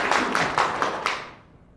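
Applause from people at a village resort meeting, a few distinct hand claps close together that fade out within about a second and a half.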